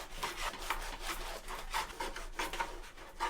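Knife sawing diagonally through a loaf of Italian bread for bruschetta: a rapid series of rough, scratchy back-and-forth rasping strokes, close and moderately quiet, repeating in an even rhythm with no talk.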